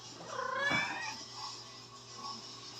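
A mother cat meows insistently, wanting to be let outside: one long, loud, drawn-out cry, followed by fainter, shorter mews close by.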